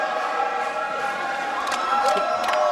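Boxing arena crowd in Brooklyn roars steadily throughout, with a dense, continuous wash of cheering and shouting from a packed audience on its feet, loud and close with no gaps.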